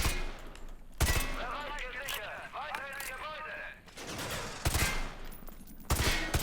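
Call of Duty Modern Warfare 2 Remastered gameplay with bursts of automatic gunfire, several loud sharp volleys with quieter stretches of mechanical battle noise between them, while someone talks over the action.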